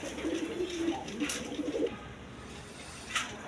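A male pigeon coos close by in a short series of low, throaty warbles, which fade into quiet ambient noise for the last second and a half.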